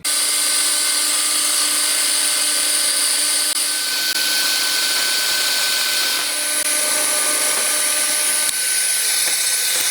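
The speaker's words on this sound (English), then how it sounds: "I'm going to use a Forstner bit to drill out some of this material" A power drill whines at a steady high pitch, boring continuously and loudly into wood with a Forstner bit up close, with little variation.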